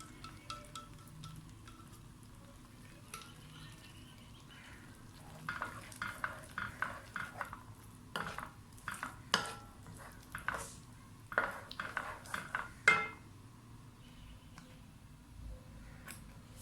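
Chickpea paste is stirred into masala frying in a pan with whole chickpeas: a faint, steady sizzle runs underneath while a spoon scrapes and squishes in irregular clusters.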